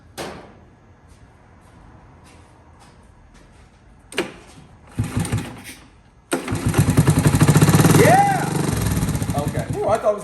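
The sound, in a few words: 1982 Honda ATC110 engine cranking and trying to start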